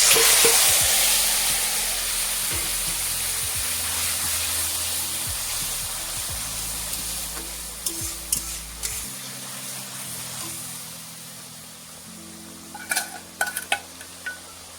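Tomatoes frying in a pan with Kashmiri chili powder, a steady close sizzle with stirring scrapes and occasional clinks of a utensil against the pan, fading gradually.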